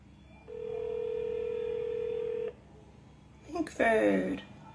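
A telephone call to a U.S. senator's office, heard as a steady tone lasting about two seconds, then silence, then a burst of ringing or keypad tones, with a voice over the end.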